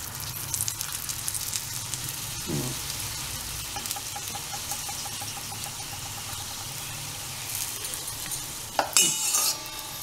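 Aloo paratha fries in oil on a pan with a steady, close sizzle throughout, joined by occasional scrapes and clinks of a utensil against the pan near the end.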